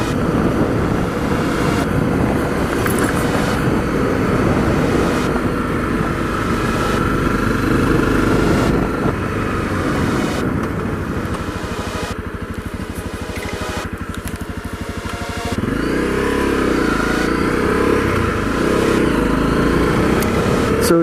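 A Honda CRF250L dual-sport motorcycle rides a back road on a chilly morning, its single-cylinder engine droning steadily up close with shifts in pitch as the rider changes speed, and wind rush throughout.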